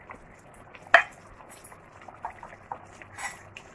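A sharp clink of metal on a pot, then soft liquid bubbling and gentle scraping stirs as potatoes are added to a pot of fish maslay, with Bahraini brownspotted grouper, quiet and close, with no speech.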